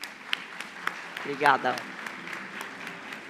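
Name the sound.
audience applause welcoming a speaker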